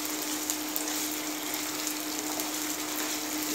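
Ginger garlic paste frying in a pan gives a continuous dense sizzle, an even bright hiss throughout with light stirring underneath and no talk.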